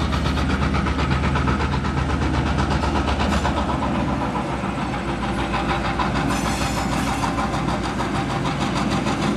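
A GEXR 516 locomotive revs up during yard work, a loud, steady engine rumble droning throughout, deep and continuous, with a heavy low hum and no voices.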